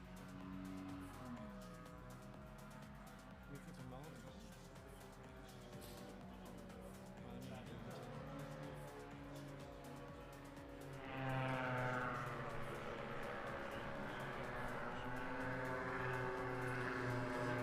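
A paramotor engine drones steadily during a slalom competition flight, its pitch dipping briefly as the throttle eases off before the buzzing swells louder again; it is heard from some distance, with no talking.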